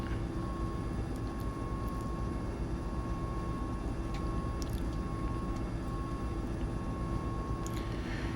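A Mil Mi-17 helicopter taxiing in Microsoft Flight Simulator gives a steady low engine drone with a constant whine throughout, loud and unchanging, with faint clicks.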